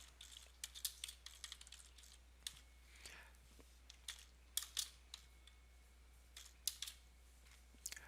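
Rapid keystrokes on a computer keyboard, typing a short entry in irregular bursts of crisp clicks, fairly close and alone in a quiet room.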